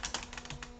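Rapid, quiet keystrokes on a computer keyboard while HTML code is entered, a light irregular patter of clicks with no talking.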